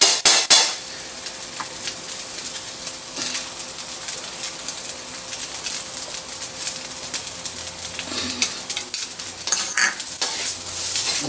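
A spatula stirs leftover rice frying into fried rice in a pan, producing continuous scraping and clattering strokes over a steady sizzle, close and fairly loud.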